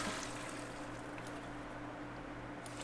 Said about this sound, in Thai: กดชักโครก